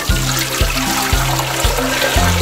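Milk poured from a container on a dairy farm, a steady liquid gurgle with repeated low glugging pulses about every half second, close and fairly loud with no voices.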